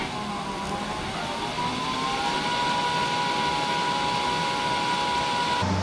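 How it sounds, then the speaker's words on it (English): DC TIG welding on 16 gauge carbon steel with an HTP Pro Pulse 220 welder, a steady, even buzzing hiss with a faint tonal whine that holds constant throughout. "We just finished welding 16 gauge carbon steel."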